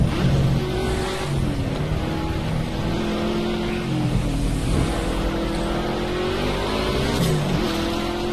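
A Rocket Bunny car drifts in a racing video game, its engine droning and revving continuously with shifting pitch, loud and close, along with faint tyre noise.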